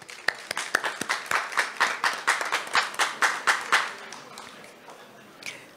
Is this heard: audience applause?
yes